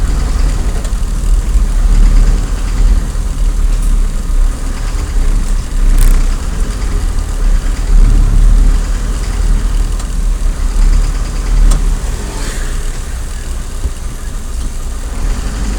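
Heavily loaded port trucks with slow, labouring engines idle and rumble along a road, a steady deep low engine drone throughout with passing traffic texture.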